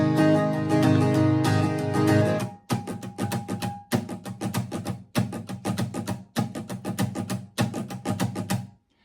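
An acoustic guitar strums a semi-complicated 90s country pattern for a song. A ringing opening chord gives way to rhythmic, choppy strokes with muted gaps, played close and clear with no voice over it.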